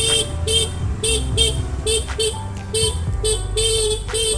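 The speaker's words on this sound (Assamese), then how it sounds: "সঁচাকে গৰুকেইটা হৰ্ণ মাৰিছো ইমান ভাল লাগিছে হৰ্ণটো মাৰি" Repeated vehicle horn toots honked at cows crowding a road on the way to a Shiva temple, short bursts in an irregular rhythm over steady engine rumble, loud and close.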